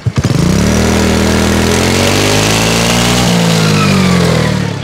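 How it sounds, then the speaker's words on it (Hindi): A Honda Activa 3G scooter fitted with an Akrapovic exhaust is revved hard, the note climbing after a brief start and holding a loud, steady buzzing drone for several seconds before easing off slightly near the end, with no talk. "कुछ इस तरीके से इसकी साउंड आने वाली है, ये आप एक्रोपोविक एग्जॉस्ट"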